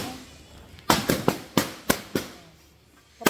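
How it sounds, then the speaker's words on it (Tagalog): Several sharp firecracker bangs go off in an irregular burst at a New Year's celebration, each with a short crackling decay, followed by a pause and one more pop. "Putok na kami."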